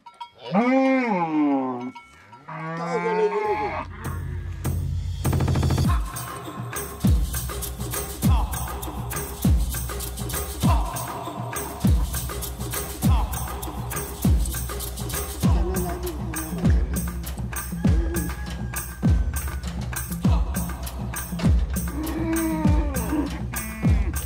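Maasai cattle moo repeatedly in a small enclosure while being milked by hand, with loud, drawn-out lowing close by at first, followed by a steady rhythmic knocking and clanking that continues under further scattered moos.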